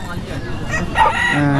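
A white fighting rooster crows once at a busy livestock and poultry market in West Bengal, the drawn-out call rising clearly over a steady murmur of crowd noise.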